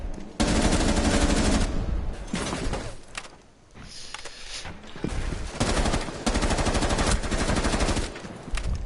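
Rifle fitted with an ACOG fired in a video game, long rapid automatic bursts broken by short pauses, loud and close, with a lull near the middle before firing resumes.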